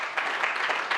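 A room full of people applauds the panelists at the close of a launch panel, a dense, steady wash of hand claps that holds evenly throughout with a few slightly louder bursts.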